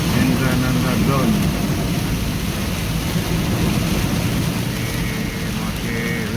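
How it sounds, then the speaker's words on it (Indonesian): Heavy morning rain pours steadily over a congested street near Mangkunegaran during flooding, a dense continuous wash with low rumbling traffic beneath and faint tonal hum, loud throughout. "Masih hujan deras"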